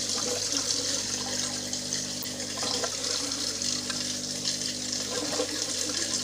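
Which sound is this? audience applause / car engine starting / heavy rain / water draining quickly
water draining quickly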